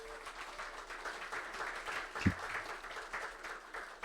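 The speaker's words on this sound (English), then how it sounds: "Please give them another round of applause." Audience applause at an architecture awards presentation, a steady wash of many hands clapping, moderately loud and sustained throughout.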